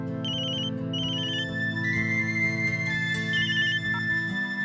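A phone ringtone in a Hindi television drama scene, a repeating electronic melody with bright trilling bursts that plays steadily for several seconds over a sustained musical backdrop.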